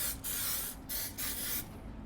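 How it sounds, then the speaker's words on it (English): A steady hiss of aerosol spray glue, three sustained bursts with brief gaps between them, close and fairly quiet, applied during HVAC ductwork. "I'm just going to put a little bit of spray glue down."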